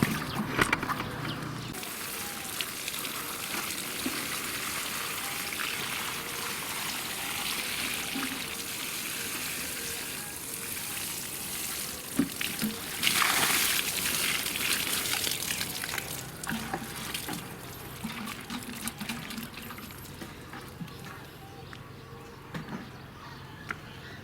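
Water gushes steadily as it is poured onto lime trees after the soil around them has been dug, a continuous splashing flow that swells louder midway before settling back.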